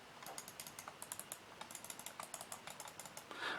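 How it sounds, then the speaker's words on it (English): Clicking from the buttons of a SteelSeries Rival 310 gaming mouse, a quick run of crisp, light, evenly spaced clicks repeating steadily at close range, with no talk. "The clicking sound is pretty nice."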